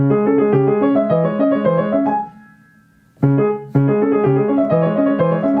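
A piano plays an even, steady run of quick straight sixteenth notes in the left hand in a regular rhythm, pausing briefly on a held tone before resuming.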